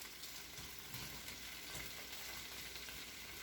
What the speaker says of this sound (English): Saute these onions up a little bit.